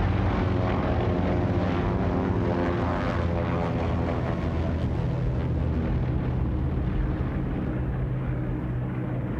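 Engines of a Mars flying boat drone steadily in flight, a dense, loud, continuous propeller roar that holds without a break throughout.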